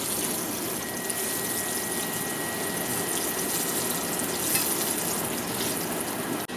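Salt cod (baccalà) fries in hot oil for an Italian Christmas meal, a loud, continuous sizzle and bubbling that holds steady throughout with no talking.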